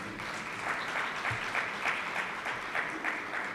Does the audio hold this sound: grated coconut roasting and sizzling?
no